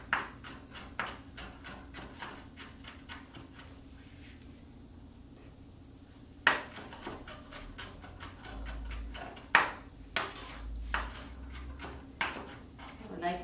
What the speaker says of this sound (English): So we're going to chop these up and get it all nice and minced up.